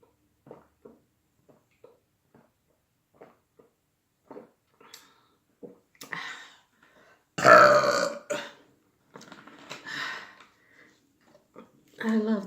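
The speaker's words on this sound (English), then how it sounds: "And let's burp." During a soul food mukbang, a loud, drawn-out burp rises out of quiet eating, with small clicks and chewing noises before it, a second belch-like burst after, and brief speech at the end.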